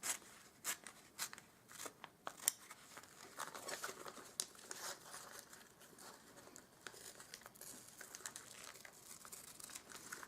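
Scissors cut appliqué designs out of paper-backed fusible web pinned to fabric, giving quiet, close, irregular snips and papery crinkles in uneven bursts, with no talking.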